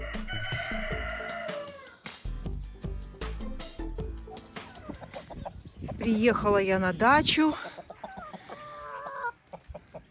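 Chickens at a country dacha cluck and a rooster crows nearby, busy and loud in bursts, with someone speaking between the calls.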